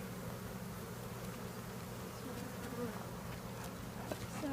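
Dense, steady buzzing of many honeybees at an open hive on a farm in Manoa, continuous and close throughout, with faint handling noises and no speech.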